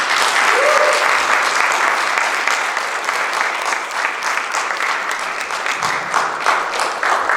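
A room full of people gives a professor a big welcoming ovation, sustained dense clapping that holds steady throughout and eases only slightly toward the end.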